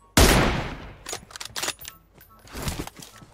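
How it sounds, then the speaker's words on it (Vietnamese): PUBG Mobile gunfire from a team firing, with one loud close shot and then several rapid bursts and echoing shots trailing off, no voices. "Vậy là có một team bắn thính rồi anh em à."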